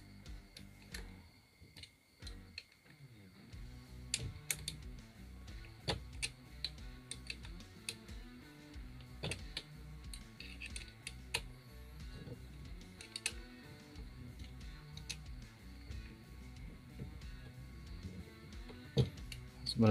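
A chainsaw adapter is being tightened onto a hand angle grinder, producing small, irregular metallic clicks and ticks close by at low volume, with no talking.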